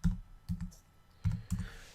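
Keys on a computer keyboard are tapped in quick, soft clusters of clicks with brief pauses between bursts, close by and fairly quiet.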